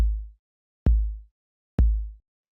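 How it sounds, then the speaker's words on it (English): Three deep, booming 808 kick drum hits with long sustained low tails, evenly spaced and unfiltered, alone with silence between. "And so all this is just a simple 808 kick. Here it is with no filter."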